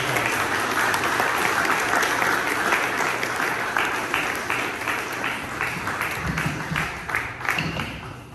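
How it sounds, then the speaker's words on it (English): A room full of people applauds political candidates at a Wylie, Texas city council campaign kickoff: dense, steady clapping that carries on for several seconds and fades slightly toward the end. "Give these fine men a round of applause"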